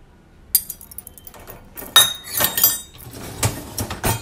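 Metal spoons and utensils clinking and clattering against one another and glassware after a dishwasher cycle, a series of sharp bright clinks at irregular intervals, close and fairly loud with no talking.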